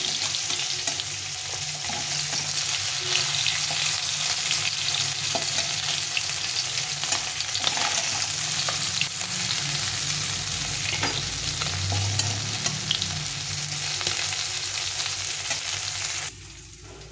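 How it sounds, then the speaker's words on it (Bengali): Fish pieces frying in hot oil in a pan, a continuous loud close sizzle and bubbling with occasional stirring scrapes, running steadily before cutting off near the end. "এই বাকি মাছগুলো এখানে ভেজে নিলাম"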